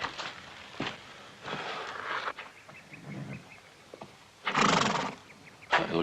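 An injured horse neighs and whinnies in several loud bursts, with soft hoof clip-clops and shuffling in between, close by and alone without speech.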